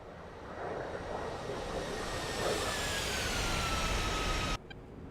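A-10C Thunderbolt II jet engine on landing approach in DCS World, a steady loud broadband roar with a faint rising whine, holding evenly before cutting off abruptly near the end.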